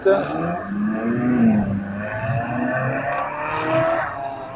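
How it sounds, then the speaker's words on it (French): A Porsche 928 engine revs and growls nearby with a rising, whining pitch, a voice briefly audible over the motor. "Échappement d'origine. La Porsche 928."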